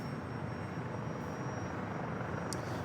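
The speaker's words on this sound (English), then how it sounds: "That E-Jet's just arriving on runway 27, coming in from Salt Lake City" A SkyWest E-Jet arriving on runway 27 at San Diego airport, heard as a continuous broad jet roar, steady and fairly loud for the whole stretch with no other sounds.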